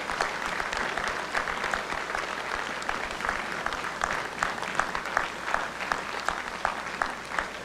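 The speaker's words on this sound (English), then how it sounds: "how about we give them a round of applause for all their sacrifice, their dedication" A church audience after a Christmas play applauds the stage crew, a steady wash of many hands with individual crisp claps popping out, sustained for several seconds at moderate level.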